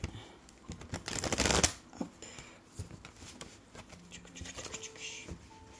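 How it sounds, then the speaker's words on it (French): A mirror oracle card deck is shuffled close by, with a loud riffling burst followed by softer scattered card slides and taps. Light whispery sounds sit underneath. "Allez, on y va avec l'oracle du miroir. Je vais juste bien le mélanger encore"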